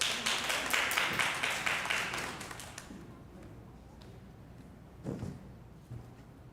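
Audience clapping at a kindergarten music and dance recital, a short burst of rhythmic hand claps that fades after a few seconds, leaving quiet room sounds and a couple of soft thumps.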